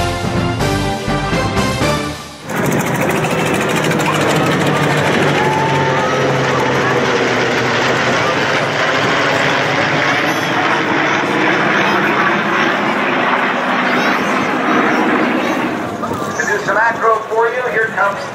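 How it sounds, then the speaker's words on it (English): A Japanese Zero fighter plane flies at the Wings over Houston 2013 airshow, its loud, sustained propeller engine roar filling the air after a brief burst of music, with an announcer talking over it. "here comes the actual Japanese Zero, the same type that was actually used during the attack on Pearl Harbor"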